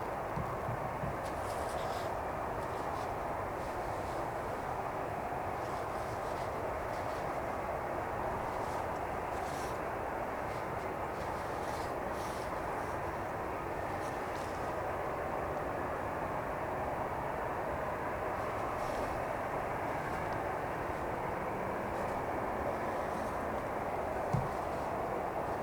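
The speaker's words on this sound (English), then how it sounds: "we have this EasyJet in from Malta, A320" An EasyJet Airbus A320, fifteen years old, arrives at Manchester Airport from Malta, a steady broadband jet roar heard from a distance that stays even for the whole stretch.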